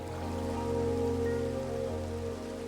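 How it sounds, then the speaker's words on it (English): Rainfall in a modded Minecraft game (Cobblemon), a steady, soft hiss of falling rain layered over a sustained tonal background, with no talk. "it's raining"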